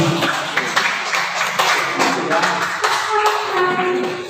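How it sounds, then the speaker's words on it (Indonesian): A small group of colleagues claps together at a school teachers' gathering, giving a short patter of scattered hand claps with a voice speaking over it. "Tepuk tangan dulu."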